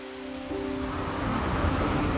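Steady rain falling on wet town streets in the Rhône region of France, a soft continuous hiss that grows a little fuller after the first half second, with faint tonal hum underneath and no voices.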